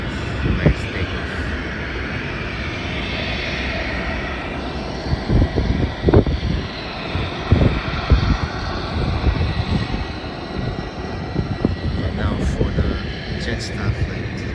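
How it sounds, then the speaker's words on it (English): A passenger jet taking off from an airport, a broad roaring engine rumble heard from a distance that holds steady throughout, with people talking nearby at times. "Nice takeoff."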